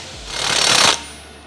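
A pneumatic rattle gun runs for about a second, tightening wheel hub bolts on an Iveco 4x4 during a brake upgrade, a loud close hammering whirr that swells and then cuts off abruptly.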